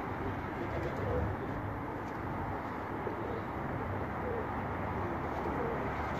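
Pigeons cooing on a rooftop in Madina, soft low coos scattered through a steady outdoor noise wash, fairly distant and under constant ambient hiss.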